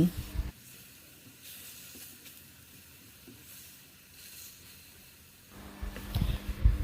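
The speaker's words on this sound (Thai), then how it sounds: "นำไปปิ้งในกระทะได้เลยค่ะ ใช้กระทะนอนสติ๊กหรือกระทะเทฟลอนนะคะกล้วยจะได้ไม่ติดกระทะ" Bananas grilling in a non-stick Teflon pan for Thai grilled bananas with coconut-milk sauce give off a steady, fairly quiet sizzling hiss that lasts about five seconds, with clatter before and after it.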